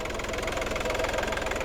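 A 2000 VW Lupo 3L turbo diesel with an aluminum hood runs close up, its engine clattering in a fast, even knock that is loud and steady without any talk.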